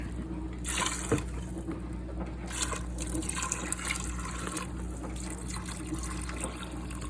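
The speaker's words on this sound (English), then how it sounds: "I'm going to go ahead and add in about 8 cups of water." Water is poured into an Instant Pot holding red beans, a steady faint splashing and trickling stream that runs throughout over a low hum, with no talking.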